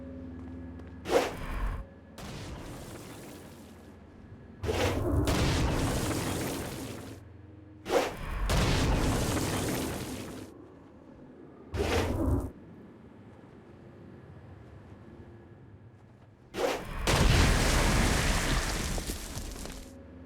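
Stone Blast attacks in Saints Row: Gat Out of Hell against flying demons: a series of loud whooshing bursts with booming blasts, arriving in separate waves of varying length with short gaps of quiet between them.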